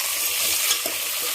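Vegetable pieces seasoned with salt are stirred in a hot pan, a brief close sizzle with a soft scrape of the spoon, no voices.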